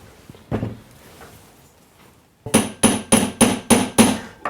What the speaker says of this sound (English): when we come to strike a piece of metal